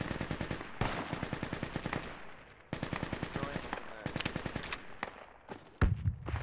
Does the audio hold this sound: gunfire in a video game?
yes